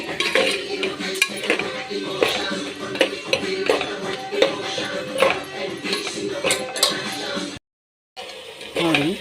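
Capsicum, potato and tomato are stirred in a frying pan, with a spatula scraping and clinking against the metal in an uneven rhythm over a faint sizzle. The sound comes from close by, breaks off for a moment, then resumes.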